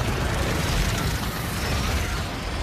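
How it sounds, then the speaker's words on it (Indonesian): A loud, sustained explosion from the Ant-Man film as PIM technology blows up and shrinks away, with a dense, rumbling low-end roar that holds steady for the whole stretch. "Dan PIM teknologi meledak dan menyusut kecil."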